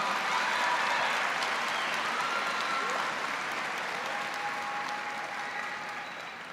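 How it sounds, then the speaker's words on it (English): Dense, sustained applause rises from the audience at a 2023 West Carrollton High School commencement as the valedictorian is honored, a broad wash of many hands that fades slightly toward the end. "Go ahead and give her a round of applause."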